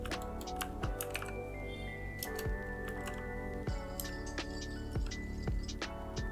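Fingers type on a computer keyboard in quick, uneven bursts of sharp clicks, close and clear, with a key or two struck harder now and then.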